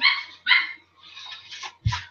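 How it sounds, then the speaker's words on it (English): A small puppy barks in short, sharp yips, two loud barks close together, then a few softer whimpering yelps and a final low bark, all close to the listener. "little puppy's barking."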